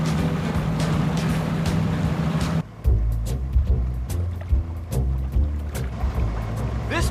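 An amphibious car's boat engine hums steadily while it moves through water, then cuts briefly before resuming with a lower, chugging drone and splashing water close by.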